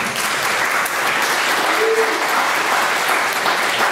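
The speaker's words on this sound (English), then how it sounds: "ladies and gentlemen, you may give your applause" Steady audience applause fills a lecture hall on trademark law and publicity rights, a dense continuous wash of many hands, loud and even throughout.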